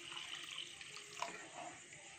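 Water poured into a pot of cooked masala for dum paneer in a home kitchen, a steady close splashing pour with a brief louder gush midway.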